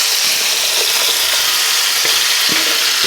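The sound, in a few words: onions and string beans frying in pan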